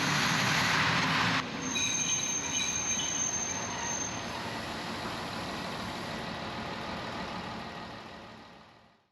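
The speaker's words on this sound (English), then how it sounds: "it looks like we're getting on the oldest train there is" An old train rumbles along the rails near Noto, Sicily, with a steady clatter and a brief high wheel squeal early on, gradually fading into the distance.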